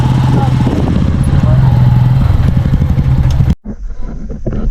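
Many motorcycles idling and revving together in a crowded spot, a dense steady engine drone close by that cuts off abruptly near the end, with a voice talking over it.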